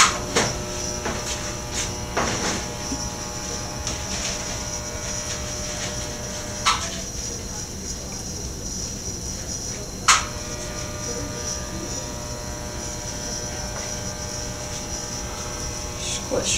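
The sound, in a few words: heating a glass bead in a torch flame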